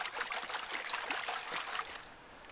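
Water trickling and sloshing in a gold pan while boiler box and oversized sluice material is panned out, a continuous close splashing rush that eases off near the end.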